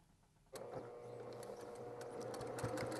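A sewing machine starts abruptly after a brief near-silence and runs in a steady, quiet mechanical whir, locking a stitch during free-motion quilting.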